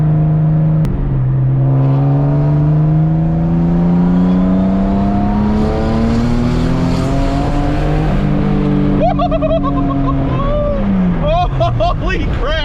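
A turbocharged Nissan 350Z with a drag clutch pulls hard through the gears, engine pitch climbing steadily, dropping at each shift and rising again, loud and close from inside the car, with excited voices near the end.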